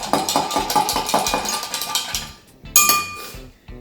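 Bloody Mary cocktail being mixed, a rapid run of close clinking and rattling like ice knocking in a shaker or glass, pausing briefly before one more loud burst.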